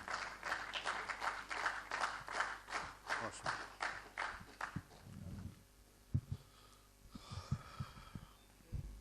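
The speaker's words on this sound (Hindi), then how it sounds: "तालियों से इस्तकबाल कीजिए" Applause from a mushaira crowd in Patiala, Punjab, welcoming a poet: a few seconds of steady clapping that fades out, then scattered claps and a voice as the room settles.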